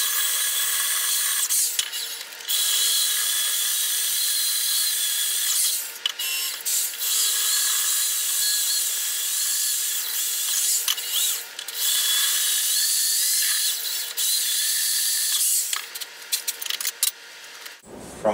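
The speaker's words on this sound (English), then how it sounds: "I'm going to move on to a 5/16 drill bit." A drill bit boring into metal for a homemade motorbike build, a loud, high, grinding whine held steadily for long stretches with brief pauses and bit changes between bursts.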